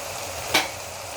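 Fenugreek seeds frying in a pan for a tamarind curry give one brief, soft sizzling burst as they are stirred, then fade back to quiet kitchen background.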